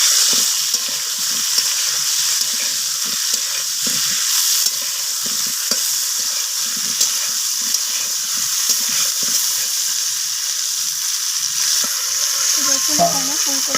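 Cauliflower pieces fry in hot oil with salt and turmeric, a steady, loud, close sizzle with occasional stirring scrapes, running continuously with no talk.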